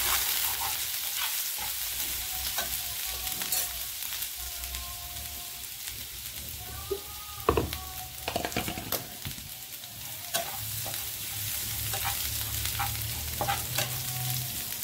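Ginger and garlic frying in a pan, a steady hissing sizzle with crackling pops, stirring knocks and scrapes, and a low rumble near the end.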